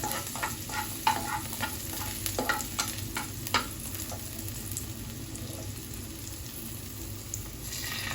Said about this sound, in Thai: กระทะร้อนนะคะ เรานำกระเทียมกับพริกลงค่ะ